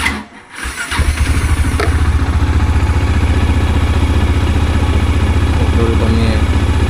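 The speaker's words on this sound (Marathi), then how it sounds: "आता आपण कोल्ड स्टार्ट करतो आहे गाडीला" Motorcycle engine cold-starting, then settling into a steady, loud idle with a rhythmic low throb and faint mechanical clatter, close by, after a brief quiet moment at the start.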